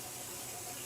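Water runs steadily from a kitchen tap during rinsing, a continuous close hiss with no talking.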